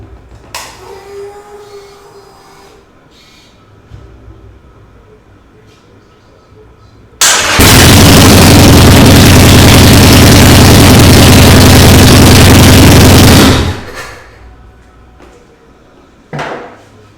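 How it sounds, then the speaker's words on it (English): A 2018 Harley-Davidson Sportster Iron 883 fitted with a new lithium battery cranks and roars to life very loudly up close, running steadily for about six seconds before cutting off, with quieter clatter before and after. "let's crank this thing up"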